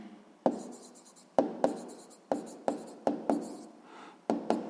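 A pen writes on paper in short, regular scratchy strokes, each starting with a sharp tap, close and quiet with no talk.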